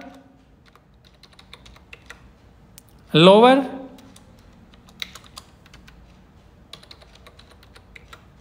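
Keys click on a computer keyboard while typing in an MS Excel spreadsheet, light scattered taps heard close and soft, with one brief spoken word between them.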